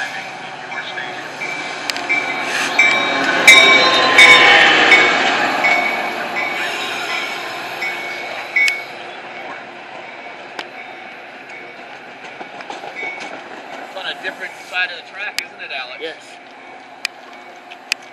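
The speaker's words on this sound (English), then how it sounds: "The next outbound Metro train from Chicago is now arriving in your station." An outbound Metra commuter train from Chicago pulls into a station, a broad rumbling approach with faint wheel squeal and clicks that swells early, then settles into a lower steady roll as it slows, with a voice over the platform.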